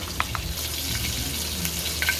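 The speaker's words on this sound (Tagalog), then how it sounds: "magigisa na tayo ng sibuyas." Onions sautéing in a pan already used to sauté liver for igado, a steady close sizzle and crackle with a few faint scraping stirs, no talk.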